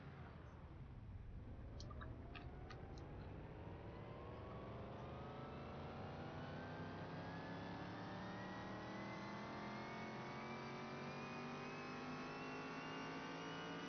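In the video game Car Mechanic Simulator 2021, a Bolt Reptilia car engine revs up steadily, its pitch climbing through the gears in a continuous synthetic roar with no talk.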